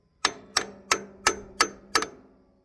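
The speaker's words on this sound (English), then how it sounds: "got my brass hammer right here." Six sharp metallic taps from a brass hammer on a seized McCormick-Deering 10-20 tractor engine, in a steady, even rhythm, each with a short ringing decay, close and fairly loud.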